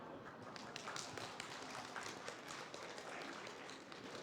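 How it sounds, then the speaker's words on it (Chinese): An audience at a panel session of the 2023 Global Hakka Culture Conference applauds, a soft, steady wash of clapping that stays faint and distant for the whole stretch. "掌声欢迎"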